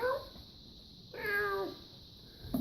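A human voice imitates a cat, giving two drawn-out, rising-and-falling meows separated by a short pause, close up and clear against near silence.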